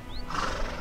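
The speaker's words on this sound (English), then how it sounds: "Ooh, a horse." A horse whinnies in the video game A Plague Tale: Innocence, a short high neigh rising then trailing off over low ambient game noise, with no talking.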